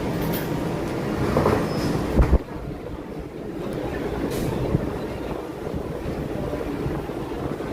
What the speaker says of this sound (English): Monorail Lime is here to pick us up.